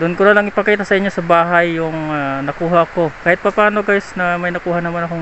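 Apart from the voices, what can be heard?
No distinct noise like a dog, phone or traffic.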